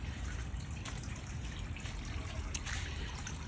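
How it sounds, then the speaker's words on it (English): A garden water fountain trickles steadily in mid-November, a soft continuous splash and dribble of water running without pause, fairly close and alone with no talk. "we need to look at the fountain one more time"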